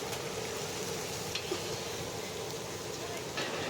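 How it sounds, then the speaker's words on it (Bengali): Pabda fish fry in hot oil in a large batch, giving a steady, moderate sizzle with a few brief stirring scrapes and clinks throughout. "আমাদের এদিকে মাছ ভাজা চলছে, প্রায় মাছ ভাজা শেষের দিকে"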